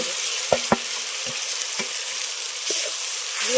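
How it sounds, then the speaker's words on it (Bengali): Onions, green chillies and spice paste fry in a pan with a steady, close sizzle, broken by several sharp clicks and scrapes as the mixture is stirred. "ভালো করে একটু কষিয়ে নেবো মশলাটাকে"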